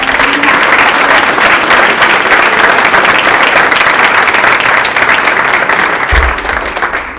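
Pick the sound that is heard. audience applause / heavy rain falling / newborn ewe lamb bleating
audience applause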